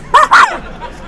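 A dog gives two quick barks close by, loud and sharp, followed by faint background chatter.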